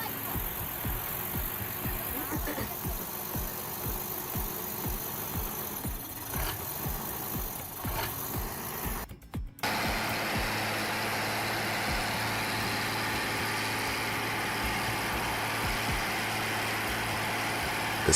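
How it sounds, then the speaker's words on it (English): Old yellow heavy-duty tractor in deep snow trying to pull a stuck truck, its diesel engine a steady low rumble with knocking throb, briefly dipping before resuming at a steady drone. "an old yellow heavy-duty tractor attempts to pull out a deeply stuck truck"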